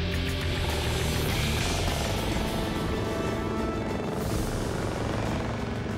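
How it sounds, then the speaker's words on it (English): A Seahawk military helicopter flies close by, its engine and rotor making a loud, steady roar with a dense churning wash that holds for several seconds, no voices. "they transported him in a Seahawk"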